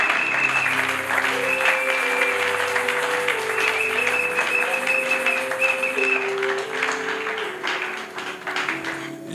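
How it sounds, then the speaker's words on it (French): A church congregation applauds at a Sunday worship service, with steady, dense clapping running the whole time over sustained organ or keyboard chords, loud and close, with no speech. "Que quelqu'un acclame le Seigneur des Seigneurs."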